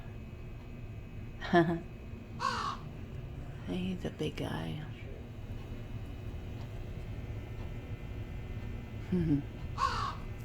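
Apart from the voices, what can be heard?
plastic toy crow cawing in an antique shop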